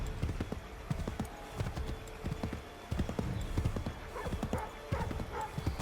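Horse hooves clip-clopping at a steady riding gait in Assassin's Creed 3, the thuds close and repeating in uneven clusters over a constant outdoor ambience, with a brief whinny-like note.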